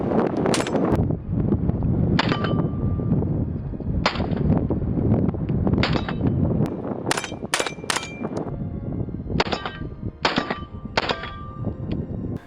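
Suppressed AR-15 rifle fired with a mil-spec Aero and a bootleg bolt carrier group, sharp close shots in short bursts with ringing clangs, likely from steel targets, between them.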